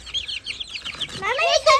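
A village chicken clucks and chirps in short, close bursts, with a denser run of calls near the end and no talk over it.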